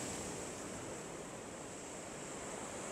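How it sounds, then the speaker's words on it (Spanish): Ocean surf pounding near Isla de Cabra by El Morro, a constant broad roar of breaking waves without pause, loud and close, with no voices. "Ahora viene otro oleaje"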